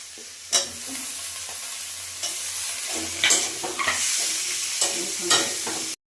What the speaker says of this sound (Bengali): মশলা সব রকম কষিয়ে নিলাম